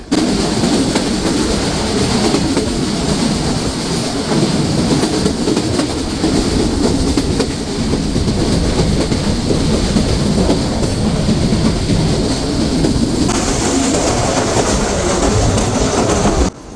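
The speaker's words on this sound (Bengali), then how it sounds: "এই ট্রেনটি হলো ঈশ্বরদ্বীপ থেকে রহনপুরগামী আন্তনগর" Silkcity Express intercity train running on rails between Ishwardi and Rohanpur, with a loud, steady rumble of wheels and carriage noise throughout, occasional clickety-clack and a faint squeal.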